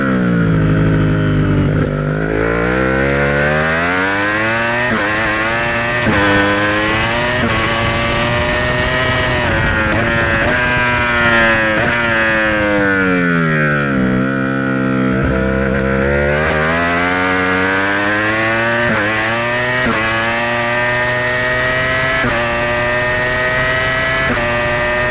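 A superbike accelerates flat out on a race track, its loud engine note climbing steadily through the gears with brief dips at each shift, sustained and close for the whole stretch with no talk.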